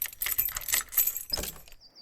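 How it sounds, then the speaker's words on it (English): A bunch of keys jingling close up, bright metallic jangles in two quick bursts, then a faint tinkle as it settles, with no voice over it. "keys jingling."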